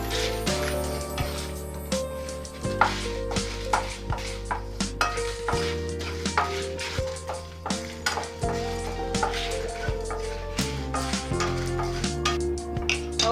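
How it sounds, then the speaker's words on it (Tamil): Cloves, cinnamon sticks and dried red chillies dry-roast in a pan for a country chicken curry, stirred with steady scraping and light clicking against the metal, loud and close, under continuous background music. "கிராம்பு, பட்டை, வரமிளகா எல்லாமே கொஞ்சம் வறுத்துக்கலாம்"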